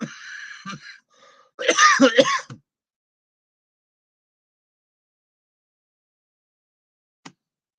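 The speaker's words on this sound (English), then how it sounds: "have got this cough back" A person clears their throat and coughs in a close burst of several rough hacks, then goes silent, with one faint short sound near the end.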